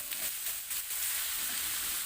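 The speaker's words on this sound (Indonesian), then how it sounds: "Tuang sedikit minyak goreng, selanjutnya masukkan bumbu yang sudah dihaluskan tadi. Tumis bumbu hingga matang." Ground spice paste sizzles steadily in hot cooking oil, a continuous bright hiss with small crackles, close and even throughout with no talking.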